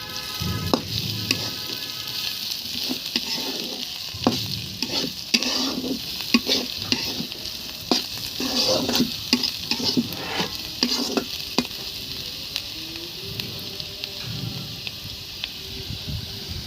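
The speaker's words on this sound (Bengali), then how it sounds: "ভাজিটা নেড়ে দিই। আমার হয়ে গেছে, একটু সুন্দর করে নেড়ে দিতে হবে।" Homegrown bitter gourd stir-fry stirred in a pan: close, steady sizzling with repeated rhythmic spatula scrapes and clinks running throughout, alone without voices.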